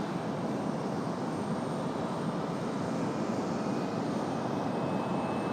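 American Airlines Boeing 777 taxiing at Raleigh-Durham airport, a steady broadband engine rumble and roar that holds at a constant level throughout with no voices.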